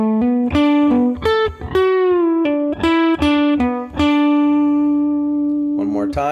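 Electric guitar plays a short lick from a song, a quick run of picked and bent notes ending on a long sustained tone, close and clear.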